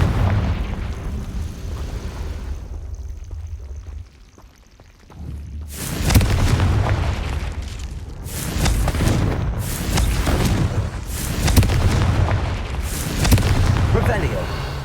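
Repeated booming blasts from the Confringo fire spell in the Hogwarts Legacy video game, loud bursts recurring every second or two over a rumbling game soundscape, with someone speaking over the action.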